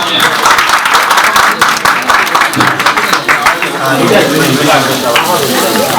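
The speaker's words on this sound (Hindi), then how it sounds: "मैया हिंगलाज के लिए बहुत सारी तालियां" Crowd applauding Mother Hinglaj at a devotional gathering on the Hinglaj Yatra, dense sustained clapping filling the whole stretch, loud and close, with voices mixed in.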